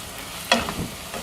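Capsicum drops into a pan of shrunken fried onions with a brief sharp clatter and a burst of sizzle, then low frying hiss continues.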